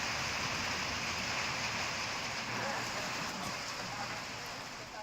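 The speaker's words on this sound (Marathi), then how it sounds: "शाहूवाडी परिसरात विजेच्या कडकडाटासह जोरदार पावसाला सुरुवात झाली।" Heavy rain pouring in Shahuwadi, Kolhapur, a dense, continuous hiss of falling water, steady and fairly loud, with no clear voices over it.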